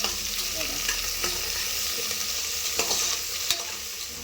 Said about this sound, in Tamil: இந்த தக்காளிலாம் நல்லா வதங்கி வந்துடுச்சு.